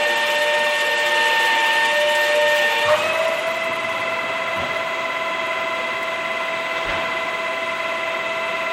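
An XYZ ProTURN lathe cutting a component, a steady whining drone with layered tonal hum that shifts pitch slightly partway through, running continuously and fairly loud with a few soft knocks.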